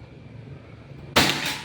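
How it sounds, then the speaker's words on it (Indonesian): A single sharp shot from a Predator Pajero Gen 6 air rifle during an accuracy test cracks out after a stretch of quiet room tone, with a brief ringing tail. "Oke, ini tembakan keempat."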